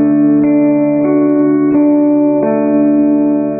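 Fingerpicked guitar notes alternate between the second and third strings in a slow, even pattern, about five plucks each ringing into the next, clear and close with no talking.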